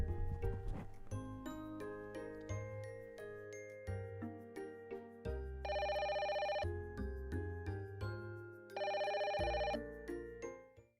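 A chiming melodic ringtone plays as a phone call goes out during a K-pop showcase, with bell-like plucked notes and two sustained buzzing ring bursts, moderately quiet and with no voices over it.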